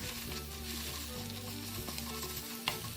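Egg being scrambled in a frying pan, part of a banana-and-egg breakfast, giving a continuous soft sizzle with a steady low hum beneath and a sharp utensil clink near the end; fairly quiet, no talking.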